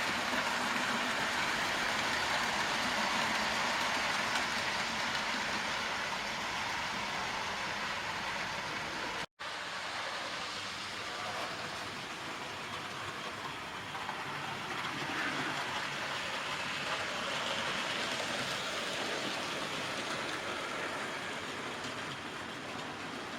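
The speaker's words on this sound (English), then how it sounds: "I think the oil train's creeping up on me right now" Model oil train running on a loft layout, a steady continuous rumble of wheels and motor on track that stays loud and even throughout, with a single brief dropout partway through.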